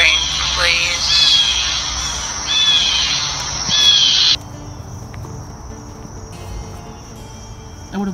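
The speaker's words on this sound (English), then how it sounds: "Hear the birds?" Birds chirp and squawk in bursts over a background of insect trills, with a voice speaking briefly early on; the calls fade after a few seconds.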